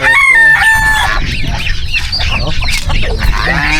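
Chickens in a coop cluck loudly and close by, a hen with her chicks, with a sharp crow-like call at the start and busy overlapping clucks and peeps throughout.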